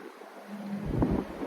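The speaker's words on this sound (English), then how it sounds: "there's a lot of wind today" Strong wind gusting outdoors at the Adventureland amusement park during the off-season, a steady roaring rumble on the microphone that swells louder toward the end.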